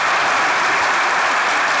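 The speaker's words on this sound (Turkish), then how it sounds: "Alkışlar ekibe gelsin." Studio audience applause at a Turkish TV comedy sketch show, a dense, steady wash of clapping that fills the whole two seconds at full loudness with no break.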